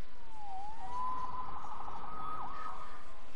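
An emergency siren sounds continuously, wavering in pitch with a brief dip near the end, fairly close and loud over a steady background hum.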